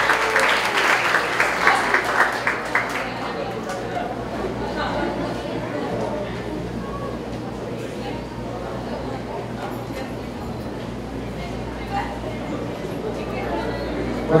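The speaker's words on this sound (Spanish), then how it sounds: "Voy a invitarles a que hacemos un muy fuerte, fuerte, fuerte aplauso" An audience at a tourism congress claps in a dense burst of applause that is loudest over the first few seconds and then gives way to crowd chatter and murmuring voices in a large hall.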